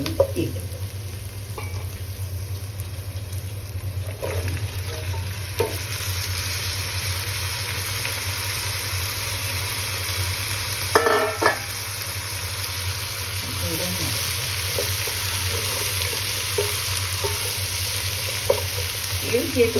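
Raw jackfruit seasoned with salt and turmeric frying in oil, a steady close sizzle with occasional stirring scrapes throughout, over a low constant hum.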